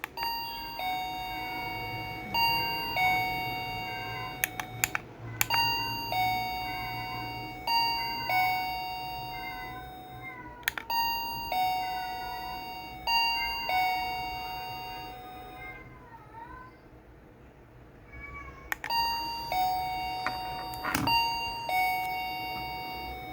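A remote-controlled wireless doorbell rings its electronic chime melody over and over, with short pauses between repeats and faint background noise throughout.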